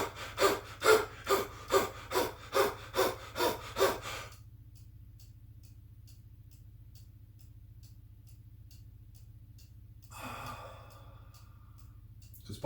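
Rapid forceful breathing exercise, about nine loud rhythmic huffing breaths close by, then quiet low hum, followed by a long slow exhale near the end.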